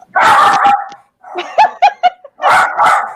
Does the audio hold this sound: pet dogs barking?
yes